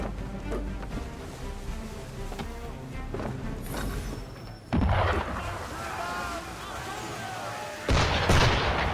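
Ship cannons boom in Assassin's Creed III Remastered, two heavy blasts several seconds apart that stand out over a rumbling game soundscape with ambient noise.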